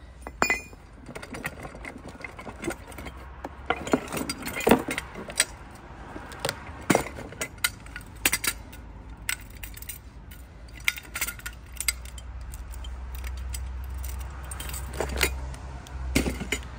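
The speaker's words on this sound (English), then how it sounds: "I'm going to just remove the pin, safety pin from it." Metal clinks and rattles as the safety pin is pulled from a foldable steel car jack stand rated over 2000 kg, a run of sharp close jangles and taps over a low steady rumble.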